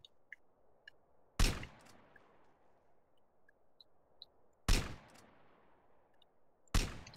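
Gunfire in Grand Theft Auto: San Andreas, three sharp, loud single shots spaced a few seconds apart, each with a short decaying tail, over a quiet background with faint clicks.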